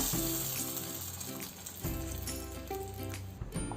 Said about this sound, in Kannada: ಈ ಒಗ್ಗರಣೆನ ಇದಕ್ಕೆ ಹಾಕ್ಕೊಳ್ಳೋಣ